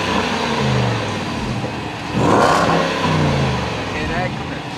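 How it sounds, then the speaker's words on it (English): A fast V8-powered family car idles with a rough, throbbing note, then revs up into a louder, rising roar around the middle before settling back, close and steady throughout. "So this vehicle has a lot of horsepower. It has a V8 engine."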